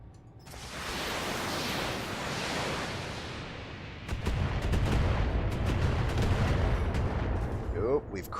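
Missiles fired in the BATTLETECH video game make a sustained, roaring barrage of blasts that grows heavier and denser halfway through, with low rumbling booms layered under crackling bursts.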